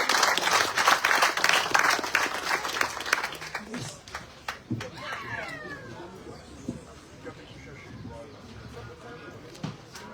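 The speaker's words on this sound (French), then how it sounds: "Allez, on l'applaudit bien fort." Applause from an audience at a political event presenting an electoral list's running mates, dense and loud at first, then thinning into scattered claps and fading under murmuring voices.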